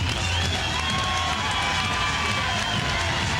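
Boxing arena crowd roaring steadily for Vinny Pazienza during his ring walk against Jacques LeBlanc, a dense, loud wall of cheering and shouting with no break.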